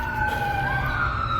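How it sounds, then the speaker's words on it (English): A wailing police siren rising and falling steadily, heard at a moderate distance over a low rumble of traffic. "police sirens."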